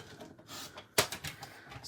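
A single crisp snip as a paper strip is cut for card making, a sharp close click in an otherwise quiet room.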